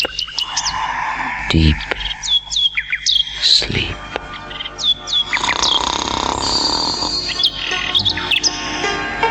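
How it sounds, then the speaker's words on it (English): A nightingale sings at an emperor's bedside in a story tape, gentle warbling chirps and trills repeated throughout, loud and close, with a narrator speaking briefly over it. "as the nightingale continued to sing his song, his gentle warbling lulled the emperor into a deep,"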